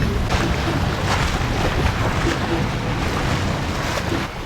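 A sailboat speeds at 6 knots through a 3-metre-deep lagoon near Nassau, giving a loud, steady rush of water and wind noise close to the microphone throughout.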